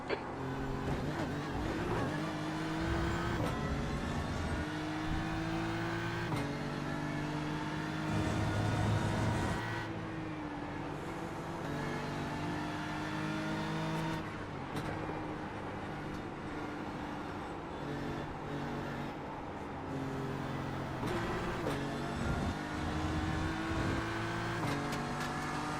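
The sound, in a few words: race car engine in a racing video game, leaving the pits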